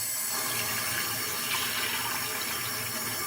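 Tap water runs steadily into a bathroom washbasin during a drain-unclogging test, a continuous close hiss and splash with no talking.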